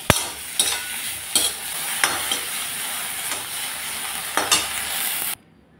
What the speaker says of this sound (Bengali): সামান্য হলুদ, সামান্য লবণ দিয়ে ভেজে নিচ্ছি।